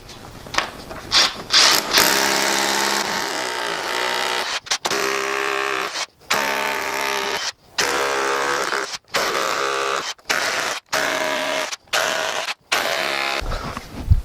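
A power drill grinds loudly through brick in repeated bursts, with short pauses between each, sounding close and harsh.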